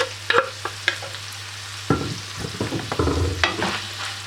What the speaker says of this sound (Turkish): Ve kıymayla beraber kavrulmasını sağlayalım.